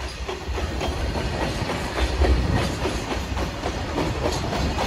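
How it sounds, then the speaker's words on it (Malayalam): A freight train rolls past near Dudhsagar waterfall, a loud, continuous rumble with rhythmic clickety-clack of wagon wheels on rail joints, close and steady throughout. "ഇങ്ങനത്തെ ഒരുപാട് ട്രെയിൻ ഇങ്ങനെ ഇടക്കിടക്ക് പോകും ഇതിലൂടെ ഇങ്ങനെ."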